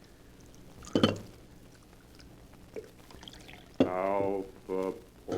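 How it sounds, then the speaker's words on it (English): Coffee poured into a cup during a 1945 radio drama: a short splashing pour near the start, then quiet before voices begin talking. "Alpha poured coffee"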